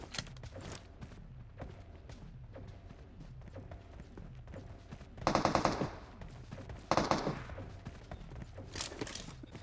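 Gunfire in the PUBG battle royale video game: bursts of automatic shots and scattered single cracks over nearly ten seconds, with two louder close volleys in the middle amid quieter distant firing and light thumps.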